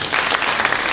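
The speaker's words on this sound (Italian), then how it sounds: "quindi un applauso a lei." Dense, loud audience applause fills a theatre after a performance of Aristophanes' The Birds, a continuous wash of clapping throughout.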